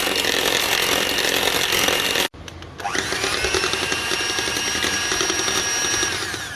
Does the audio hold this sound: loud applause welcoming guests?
no